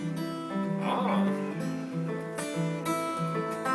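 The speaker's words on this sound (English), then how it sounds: "That's called fingerstyle guitar." Acoustic guitar played fingerstyle, with the strings plucked one at a time in a flowing melodic pattern. The notes ring out clearly and fairly close, steady for a few seconds, with no talking over them.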